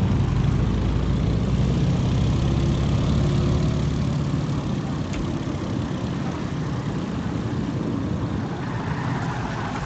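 A Stearman biplane's engine in the Microsoft Flight game roars at full throttle: a loud, steady, low droning rumble that holds evenly for the whole stretch with no talking.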